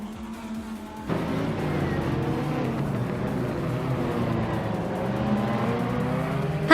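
Race cars speeding in a video game race produce a steady, droning engine roar that surges after a brief quieter start, with rising whines from engines revving and passing.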